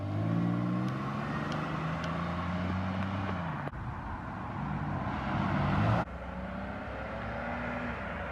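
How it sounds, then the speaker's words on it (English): A car's engine drones steadily as it drives away down a road, with shifting pitch as it pulls off, heard from a modest distance and fairly faint, with no talking. "that car looks sharp going down the road"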